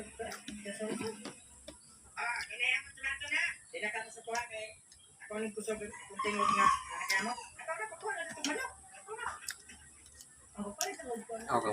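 A rooster clucks and crows intermittently, with bursts of fowl calls over a nearby mealtime setting where people talk throughout.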